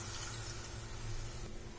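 About three-quarters of a cup of water is poured into a kadai on the stove. A soft, continuous splashing trickle runs steadily and close, with no talk.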